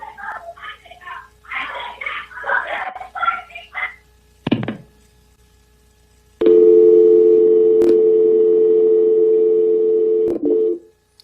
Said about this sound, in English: The remaining time on that audio will just be a dial tone